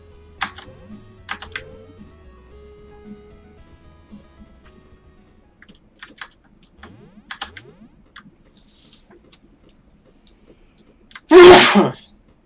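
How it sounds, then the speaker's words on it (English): A single loud, close sneeze bursts out near the end, after quiet stretches of scattered keyboard typing and clicks during a livestream of a ghostly castle game. "I sneezed and it made my head hurt."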